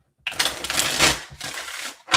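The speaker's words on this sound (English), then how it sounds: "Let's get a nice shuffle here for Taurus before I get started." Tarot cards are shuffled by hand in a steady, close, papery riffle that runs for about two seconds, with a brief pause near the end before a final burst.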